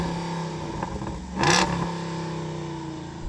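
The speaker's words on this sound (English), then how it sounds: "in the Wrangler, can you rev up your American V8?" American V8 in a Wrangler from a racing video game, revved once in a short, loud burst around the middle, rising then falling back to a steady engine idle hum.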